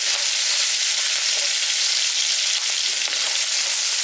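Onion and garlic sauté in an indoor pan for a Filipino pork caldereta with coconut milk, giving a loud, steady broadband sizzle with faint stirring scrapes throughout and no talking.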